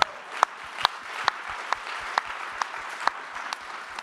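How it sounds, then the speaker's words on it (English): Audience applause at a SXSW 2024 talk session, a steady wash of many hands clapping with sharp individual claps standing out at a regular pace, sustained and fairly close. "I really want to make an applause for you to be here."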